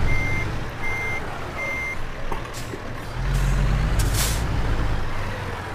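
A reversing truck in a driving simulator game gives three evenly spaced backup beeps, then a sharp air-brake hiss bursts out over a low diesel rumble that swells toward the end.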